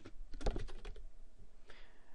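Several quick keystrokes of code typed on a computer keyboard, a brief burst of close, faint clicks followed by a lone later tap in a quiet room.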